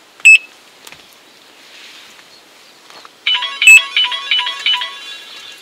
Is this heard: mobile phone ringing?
yes